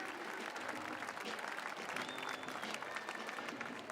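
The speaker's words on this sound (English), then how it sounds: "Big round of applause, ladies and gentlemen," Sustained applause from a large arena crowd for individual women athletes at the 2019 Reebok CrossFit Games, a dense, steady roar of clapping filling the whole span.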